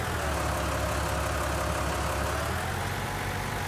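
A Ford tractor's engine running steadily as a harrow is hitched, a loud continuous low rumble with no change in pace, close and alone without talk.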